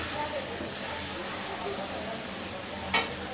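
Doi begun, a Bengali eggplant and yogurt curry, sizzles in oil as its gravy reduces. A loud, continuous, close frying hiss runs throughout, with one brief scraping stir near the end.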